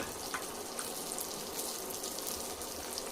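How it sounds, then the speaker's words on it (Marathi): Onion fries in oil with a faint, even hiss that holds steady throughout, with a few soft ticks and no voices. "आता मी कांदा टाकून घेते सगळा"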